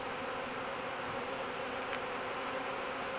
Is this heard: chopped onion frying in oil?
no